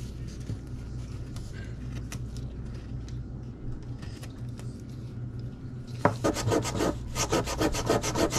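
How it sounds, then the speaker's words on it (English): Sandpaper shaping a hand-cut wooden topwater popper lure: a soft, steady rubbing gives way near the end to louder, rapid back-and-forth scraping strokes, close up with no talking. "I use the sandpaper to just get the shape that I want after I cut it."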